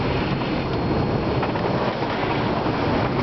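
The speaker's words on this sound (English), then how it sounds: "Waves really aren't all that bad. But you can see, still a wet ride." Wind and breaking waves rush steadily while a sailboat beats upwind under a single-reefed main and most of the genoa, a broad continuous wash of spray and water noise with no voices.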